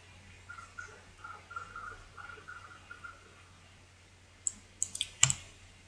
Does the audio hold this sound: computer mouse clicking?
yes